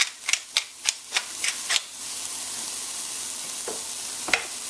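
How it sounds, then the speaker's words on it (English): Spoon stirring stewed pumpkin with salted fish in a pot over low heat, seasoned with fresh ground black pepper; a run of sharp scraping clicks at first, then a softer steady background with one last knock. "Give that another quick stir."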